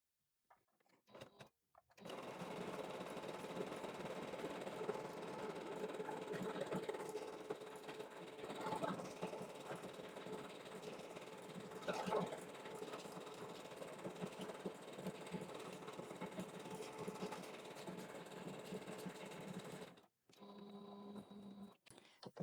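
A sewing machine stitches around the toes of a fabric bunny butt pillow, running as a steady, close mechanical whir for about eighteen seconds before stopping, with brief quiet handling at either end.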